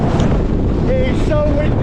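Gale-force wind buffeting a microphone on a mountainside in the Langdales, Lake District, a loud, steady roar filling the whole moment.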